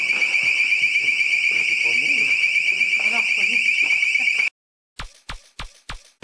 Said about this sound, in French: pour la 2e fois, un détecteur de mouvement se déclenche sans raison apparente